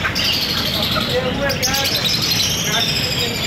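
Budgerigars chirp and twitter busily in a flock at a bird market, a bright high-pitched chatter over a steady background hum and faint voices.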